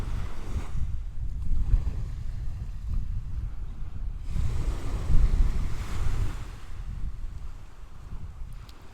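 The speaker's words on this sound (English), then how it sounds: "That wind's picking up as well, like it was forecast." Wind buffets the microphone on the Holderness coast at Withernsea while waves surge and wash ashore, a loud, rumbling roar that swells and eases in gusts for several seconds, with no talking.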